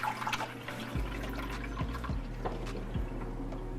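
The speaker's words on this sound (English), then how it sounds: "I'm going to add in about 5 cups of warm water" Warm water trickles and splashes as it is poured into a deeper pan surrounding an Oreo cheesecake pan for a water bath, with soft dripping and liquid gurgles, close and fairly quiet.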